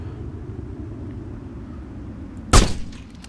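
A single sniper rifle shot in Sniper Ghost Warrior 2 cracks out sharply over a low rumbling background, then decays briefly.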